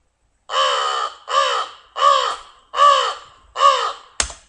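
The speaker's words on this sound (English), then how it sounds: "it says American crow" An American crow gives five loud, harsh caws in an evenly spaced series, each call strong and close, followed by a brief sharp click at the end.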